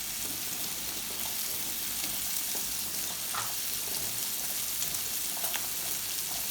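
Garlic and vegetables sizzle steadily in a hot pan for a lamb and steamed vegetable dish, a dense, even frying hiss up close with faint stirring clicks and no voices.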